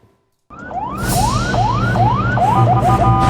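An ambulance siren on the Jakarta-Tangerang toll road bursts in after a short silence, loud and close, wailing in repeated rising sweeps that speed up into a quicker yelp, with traffic noise underneath.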